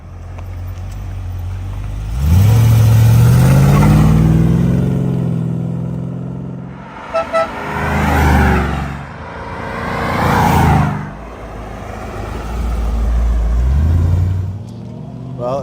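A 1989 Aston Martin V8 Volante engine revs and surges past in loud waves, rising and fading as it accelerates in a straight line, with a voice briefly talking near the end.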